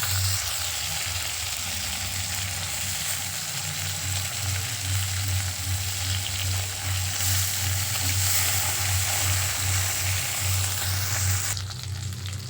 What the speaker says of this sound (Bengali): তেলটা গরম হয়ে গেলে মাছগুলো প্রথমে ভেজে নেব